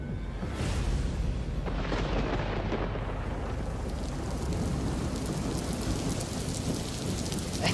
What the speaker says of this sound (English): As if on cue, it started raining again.